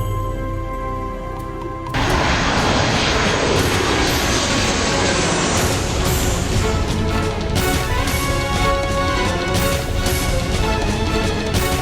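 An airplane engine roars loudly overhead in a children's fantasy TV series, bursting in abruptly after a quieter musical opening and holding as a heavy, sustained rumble with dramatic sound effects layered on top.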